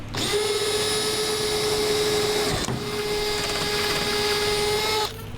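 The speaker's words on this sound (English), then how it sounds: "drilling more holes" A power drill bores holes during a Turbowing install on a Peterbilt 389 in a truck shop, whining steadily and loud for about two and a half seconds, briefly pausing, then running again before stopping near the end.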